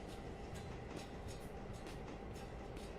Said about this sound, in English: I see the train coming down.